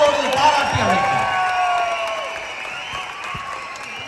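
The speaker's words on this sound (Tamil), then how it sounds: "அரங்கம் நிறைந்த கைத்தட்டலோடு பாராட்டி அழைத்தார்" A hall audience at a Thirukkural festival in Dubai applauds and cheers to welcome a speaker, the clapping dense and loud at first and easing slightly over four seconds, with whoops and voices mixed in.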